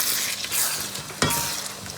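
A spoon stirs mixed vegetables and oil into a gravy base in a hot, sizzling pan, a steady frying hiss with a sharp scrape or clink partway through and no voices.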